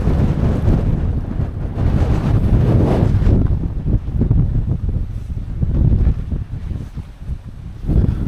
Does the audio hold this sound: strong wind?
yes